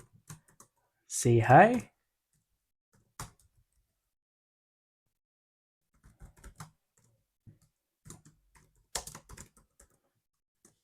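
Someone types code on a computer keyboard, sparse clusters of light key clicks spread across a mostly quiet stretch, with a brief spoken phrase near the start.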